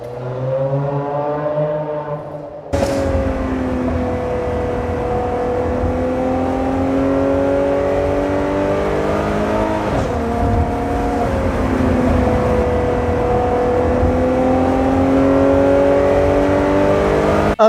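Ferrari 599 GTO engine rising to a sustained high rev after a sudden start, the tone climbing and holding loud and close for a long stretch with slight pitch dips.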